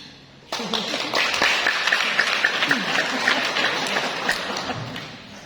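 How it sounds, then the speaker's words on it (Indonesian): Applause at a Catholic charismatic gathering: a crowd's clapping bursts in abruptly and holds steady and dense for about five seconds, with scattered louder claps throughout. "Tepuk tangan."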